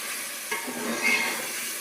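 Plain masala fried and stirred in a pan: a soft, steady sizzle with a couple of brief spoon scrapes partway through.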